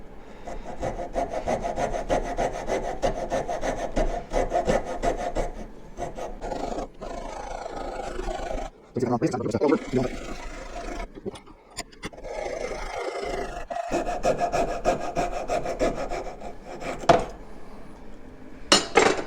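Hand sawing with a coping saw through a block of wood clamped in a vise for carving: steady rasping back-and-forth strokes, close and loud, with a few brief pauses and no talking.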